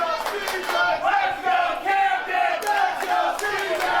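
A lucha libre wrestling crowd at Skyfire Pro chants loudly and steadily, the rhythmic shouts evenly split in support of both wrestlers, filling the arena without pause.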